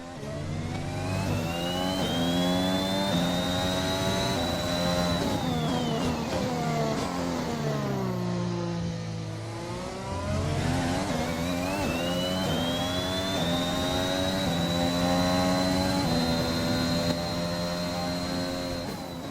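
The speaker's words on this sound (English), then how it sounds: "Okay, so you can hear there the engine does sound alright" Racing car engine from the F1 2021 video game, a hybrid V6 with an electric whine, revving loud and continuous: a high harmonic pitch climbs, drops sharply around mid-clip as if downshifting or braking, then rises again, with no talk.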